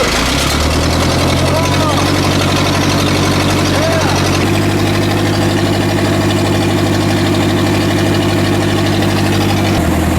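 An old $2500 backhoe's engine cranks and catches after a dose of starting fluid, then settles into a loud, steady, knocking diesel idle close by, with a brief shift in pitch midway and voices talking over it.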